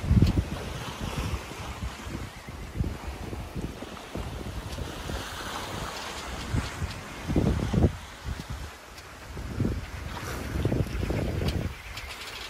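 Waves and wind at sea aboard a sailboat in the trade winds during a solo Pacific crossing, with steady wind rush buffeting the microphone and repeated low sloshing surges of water against the hull, loud and continuous without talk.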